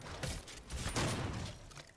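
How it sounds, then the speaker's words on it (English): Shotgun blasts from the DOOM game crack out in a quick cluster of two or three close, punchy bursts over about two seconds, fairly quiet overall. "So I'm gonna start using my shotgun."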